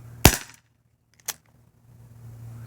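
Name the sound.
Bear River 4 inch revolver shot hitting a soda can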